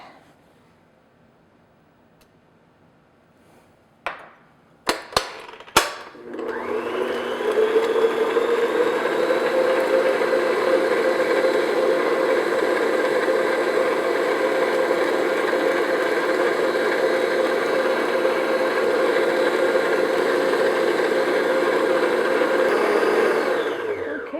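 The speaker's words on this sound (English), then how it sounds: "next I'm going to beat in 2 large eggs" An electric hand mixer beats two large eggs into hermit cookie batter, starting after a few clicks and knocks, then running as a loud, steady whir for about eighteen seconds with no talking.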